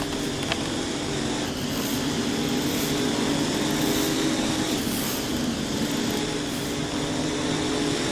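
Ford F350 and Chevy Tahoe mud trucks in SnowRunner pulling off into a mud pit, a steady droning engine roar that holds evenly at moderate loudness throughout, with no talking.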